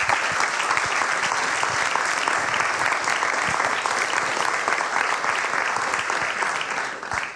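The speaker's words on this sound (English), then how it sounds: "Can we give one last round of applause?" Audience applause at the close of a book panel discussion, steady and dense throughout, loud and sustained with no break.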